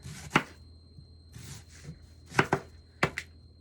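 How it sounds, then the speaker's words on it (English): Peppers and onions chopped with a knife on a cutting board, several sharp, separate chops spaced irregularly and heard up close against a quiet background. "So let's cut our onions and our peppers."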